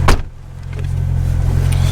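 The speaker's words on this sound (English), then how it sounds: "now, I got to do a burnout of it" A Toyota KE70 with a 4AGE engine does a burnout, a sharp burst at the start giving way to a steady, loud low engine roar that holds and builds, close by with no talk.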